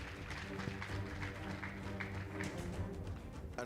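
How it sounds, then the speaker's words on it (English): A school debate audience at a Kenyan high school competition gives a round of applause, a faint, steady patter of clapping from a distant crowd. "Please give them a round of applause."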